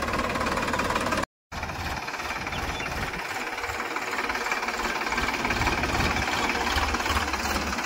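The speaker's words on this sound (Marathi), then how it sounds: "ट्रॅक्टर चालवण्याचा पहिला अनुभव." A tractor engine chugs loudly and continuously at close range, a rough knocking rumble with a brief dropout near the start.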